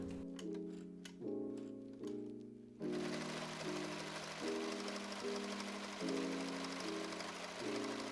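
A sewing machine runs in repeated bursts, stitching fabric ruffle pieces for a summer dress into one large loop, its steady mechanical whir close and loud, pausing briefly between runs.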